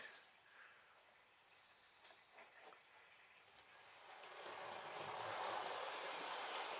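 Bachmann City Class 4-4-0 Killarney model locomotive hauling three coaches, a soft continuous running whir with faint rail clatter that swells louder in the second half as it speeds up.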